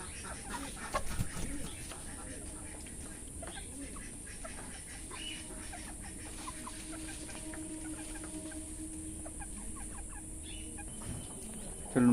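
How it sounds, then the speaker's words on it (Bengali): Feather-footed chickens, both hens and a rooster, cluck and call softly in a small backyard enclosure, with scattered faint bird sounds over a quiet outdoor background and a brief louder stretch near the start. "এখানে আছে আগের পায়ে পালকওয়ালা মুরগিগুলো।"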